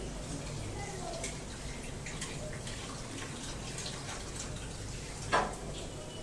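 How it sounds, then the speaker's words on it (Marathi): Water pours steadily into a mixer jar, a soft continuous splashing at low volume with a brief knock near the end. "याच्यामध्ये पाणी घालायचं आणि मग ते पाणी याच्यामध्ये ओतायचं"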